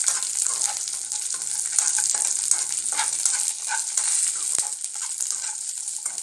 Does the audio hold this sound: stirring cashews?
yes